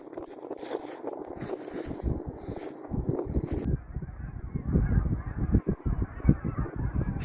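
Specklebelly geese honk repeatedly from a flock over the Missouri River in late season, the calls layered and fairly close, with wind buffeting the microphone and a faint boat hum beneath.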